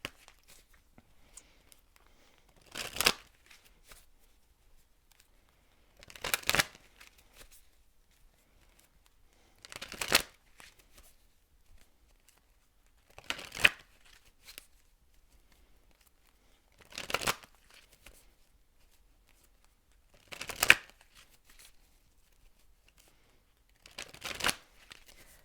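Tarot cards being shuffled before a card is drawn, heard as seven short, crisp riffling bursts spaced about every three to four seconds, with near silence between them.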